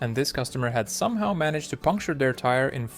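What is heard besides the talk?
No everyday noises stand out.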